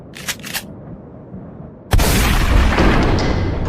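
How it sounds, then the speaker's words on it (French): Sudden loud blast bursts in after near-silence with two faint earlier taps, a sustained roaring barrage standing in for a huge machine gun blowing open a ceiling hatch in a French audio drama. "T'as ouvert la trappe au-dessus de notre tête avec ton énorme mitrailleuse!"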